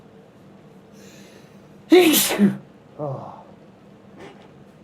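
A single sharp sneeze bursts out in the middle of a quiet room, followed by a short voiced exclamation and faint background talk.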